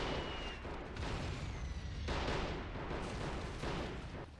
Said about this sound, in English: A lot of these really high positions, the artillery strikes will often hit quite low